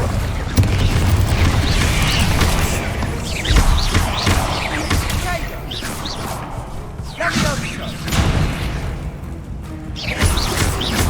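Incendio fire spell cast in Hogwarts Legacy on PS5, bursting with a loud whooshing boom amid other repeated spell impacts, thuds and swishes, over a noisy game soundtrack with voices present.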